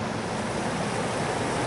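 Flowing water of the Weber River, with deep runs around placed boulders, making a steady, even rush of broadband noise with no pauses and no voices.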